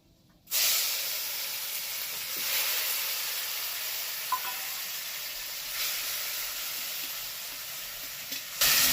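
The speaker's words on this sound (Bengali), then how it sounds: "এগুলোকে একটু ভেজে নেব দেখো পুরোপুরি ভাজা হয়ে গেছে মশলাগুলো এইবার দিয়ে দিচ্ছি টমেটো কুচি" Chopped tomato from one large tomato hits spices already frying in a pan, setting off a sudden loud hiss that settles into a steady, close sizzle for several seconds.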